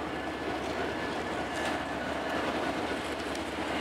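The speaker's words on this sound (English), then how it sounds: "A couple mixed freight in between, not a big train at all." A Union Pacific mixed freight train passes at night with a steady, continuous rumble of rolling cars and faint rhythmic clacking of wheels, with no voices.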